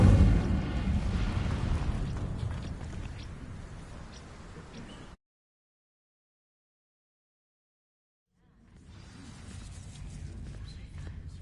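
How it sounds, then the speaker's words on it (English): A fire spell called Incendio bursts against dry vines in Hogwarts Legacy, opening with a loud, close whoosh and boom that fades into a rumbling roar. Several seconds of silence follow before the roar returns at a lower level. "These dry vines are one spark away from becoming kindling. Incendio!"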